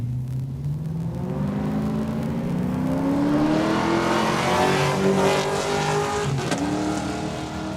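Drag racing car on a quarter mile run at Saskatchewan International Raceway, engine roaring and rising steadily in pitch as it accelerates, loud and close, then easing off near the end.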